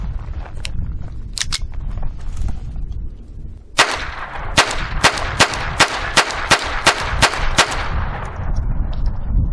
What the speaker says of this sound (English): we're going to start off with 10 rounds of CCI ammo, and I only have one magazine, so let's fire 10 rounds